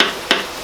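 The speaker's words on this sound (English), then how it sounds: "Just roughly chop them." Two sharp knife chops through food on a cutting board, while roughly chopping ingredients for a spaghetti bolognese, evenly spaced, close and crisp with nothing else heard.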